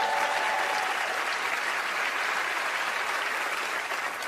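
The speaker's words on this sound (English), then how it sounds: "ladies and gentlemen, a round of applause for Penn and Teller as they join me on stage" Sustained applause from a studio audience at the Penn and Teller magic show, a dense, steady roar of clapping that holds at an even loudness throughout, with no voices rising above it.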